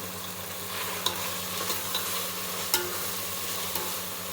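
Ginger sautéing in a pan for chicken biryani gives a steady, close frying sizzle with a continuous low hum, broken by a few light stirring clicks and scrapes, with no talk.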